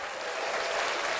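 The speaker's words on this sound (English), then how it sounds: "One round of applause for everybody that made the" A crowd breaks into a round of steady, dense applause that fills the whole moment, with no voices over it.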